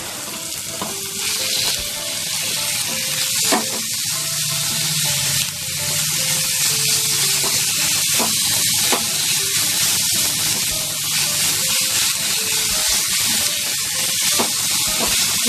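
Marinated chicken fries with onions in a pan, a loud, dense sizzle that runs throughout, with scattered spatters and occasional stirring knocks, close by and without speech.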